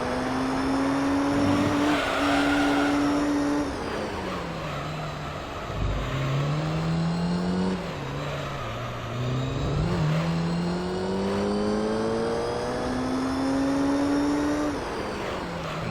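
Race cars roar around Special Stage Route 11 in Gran Turismo 3, with a loud continuous engine whine rising and falling through gear shifts and other cars passing close by.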